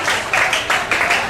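Audience applause at a gospel dinner gathering, a short burst of steady clapping from a group.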